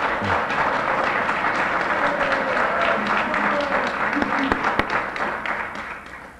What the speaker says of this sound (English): join me again in giving him another round of applause